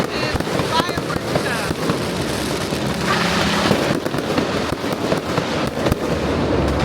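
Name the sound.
fireworks at Chinese New Year in Penang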